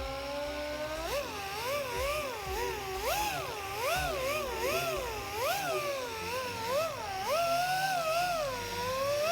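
A small car polisher compounds the paint of a 1974 Mini Cooper, a steady whining motor whose pitch wavers up and down as it is worked across the panel, close and continuous.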